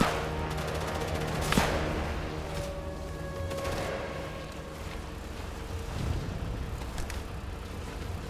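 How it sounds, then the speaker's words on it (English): A machine gun nest firing in Sniper Elite 5, rattling bursts of gunfire over a low background rumble, with a sharp crack near the start and scattered shots later, moderately loud with no talking. "Oh shit, machine gun nest."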